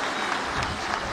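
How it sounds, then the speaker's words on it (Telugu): An audience at a public meeting in rural Kadiri claps in a brief, dense burst of applause. "గట్టిగా చప్పట్లు కొట్టి ఆయన అభినందించండి"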